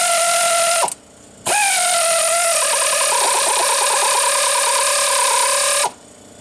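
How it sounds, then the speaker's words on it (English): A Time-Sert 5600 reamer cutting out a spark plug thread hole, droning as a steady mechanical whine that stops briefly near the start, resumes with a wavering tone, then cuts off near the end. "We've got a little ways to go before the counter bore part of the reamer starts to cut."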